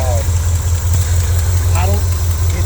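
An old truck engine called Big Bertha idles with a manifold gasket in need of replacing, a loud, steady, close rumble with a fast, even pulse. A faint voice is heard briefly partway through.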